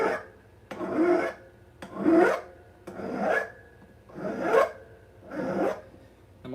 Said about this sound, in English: So I'm going to switch to hand file now.